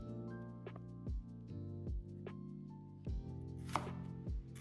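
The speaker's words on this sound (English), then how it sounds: "Separate the chicken wings into segments." A knife chops chicken wings into segments, five or six sharp, evenly spaced thuds on a board, close and clear against soft background music.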